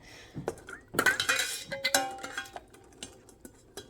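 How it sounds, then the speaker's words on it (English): A magnet lifting a hot canning lid out of a pot of water and setting it onto a glass jar while pressure canning chicken broth, with a series of sharp metallic clinks and taps, a brief ringing chime, then lighter scattered ticks. "take the lid out, and place it on the jar"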